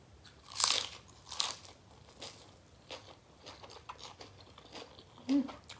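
Someone eats steamed mussels with spicy sauce and rice noodles, close to the mic, with a few sharp crunchy bites followed by softer, irregular chewing and mouth sounds.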